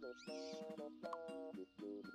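A kitten meows repeatedly in short, bright, high-pitched calls, close and fairly loud, with a brief pause near the end of the run.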